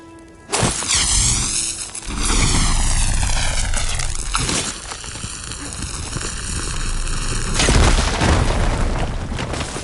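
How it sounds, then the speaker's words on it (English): A fire gleam blowing up in the video game Horizon: a sharp, loud boom followed by a sustained roaring rumble, with a second surge of blast noise later, all close and dominant. "Should be able to blow up that fire gleam."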